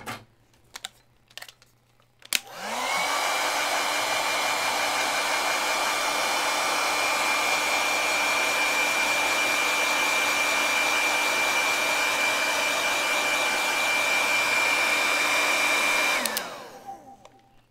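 A hair dryer runs steadily for about fourteen seconds, drying wet paint on a Halloween painting, loud and continuous with a sharp switch-on and a fading switch-off, after a few faint taps.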